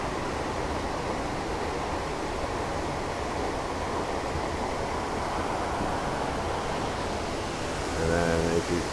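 Pratt Falls waterfall, a constant broad rush of falling water heard close and loud, with a brief louder gust near the end.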